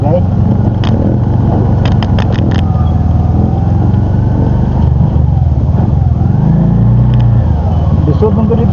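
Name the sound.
motorcycle riding on a rough, bumpy road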